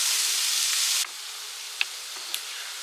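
Finely chopped medium-sized ingredients sizzle loudly in hot oil for a drumstick fry, then the hiss drops sharply to a quieter steady frying, with a couple of small clicks.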